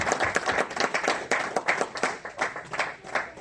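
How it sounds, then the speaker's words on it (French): A church wedding congregation applauds during a religious ceremony in Dallas, a dense, steady patter of many hands clapping together with faint voices beneath, moderately loud and continuous throughout. "Acclamons encore, acclamons bien-aimés, acclamons notre Dieu, soyons participatifs."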